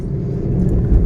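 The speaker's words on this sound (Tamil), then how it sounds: "ஆப்போசிட்டில் வண்டி வருது." An oncoming vehicle passes on a road in Coimbatore, its low engine rumble swelling and growing louder and closer toward the end of the brief moment.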